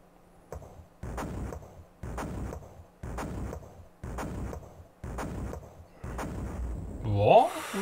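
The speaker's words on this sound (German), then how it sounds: "Ja, die Artillerie" Artillery fire in the Amiga strategy game Historyline: six evenly spaced booming shots, each about a second apart, with a different crackling burst at the end, loud and alone.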